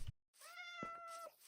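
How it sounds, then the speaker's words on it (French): A cat meows in the Minecraft video game, one clear drawn-out synthetic meow preceded by a brief click, heard alone and close. "Oh mon dieu, un chat"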